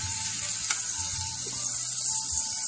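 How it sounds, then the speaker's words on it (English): Beef pieces fry in melted butter, giving a constant, bright sizzle close by with a few soft pops and stirring clinks. "We're going to go ahead and put our meat in here and start frying this."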